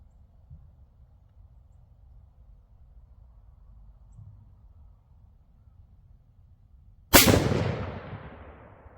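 A Bear Creek BC10 rifle in .243 Win fires one Hornady Superformance 95 grain SST round, a single sharp, loud outdoor report with a lingering echoing tail after several seconds of quiet low rumble.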